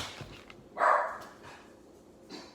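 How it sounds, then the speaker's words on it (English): A single loud dog bark rings out close by, followed by a fainter yip a moment later, with no talking around it. "My dog is always barking outside because people have been sitting outside and stuff more so"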